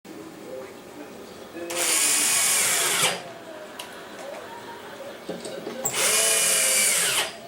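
A power screwdriver drives screws into a Sony SXRD projection TV's optical assembly: two separate whirring runs about a second long each, close and loud, with someone talking quietly in between.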